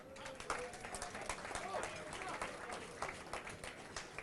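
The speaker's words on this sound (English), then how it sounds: "round of applause for Mossyman's" Audience applause at a Walking with the Wounded charity dinner at Chelsea Football Club in London, a steady, dense round of clapping filling the room for about four seconds with faint crowd murmur underneath.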